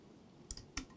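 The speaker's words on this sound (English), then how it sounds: "hit backspace." Two sharp keystrokes on a computer keyboard during a PC setup, quick clicks about a quarter second apart, close and clear against a quiet room.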